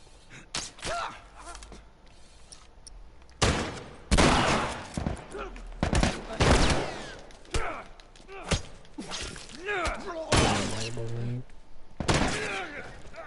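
Rifle gunfire in The Last of Us Remastered, a few loud separate shots among game impacts and effects, with someone talking over the action.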